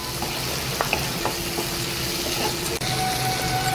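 Boiled, finely diced potatoes fry in oil while being stirred, giving a steady close sizzle broken by faint clicks and taps of the stirring utensil, with no voices.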